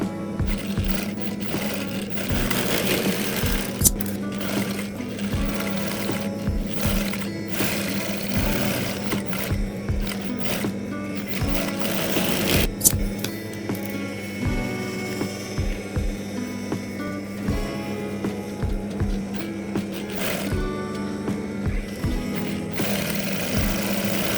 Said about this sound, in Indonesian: Jahit kembali. Jarak setiap jahitan kurang lebih setengah sentimeter.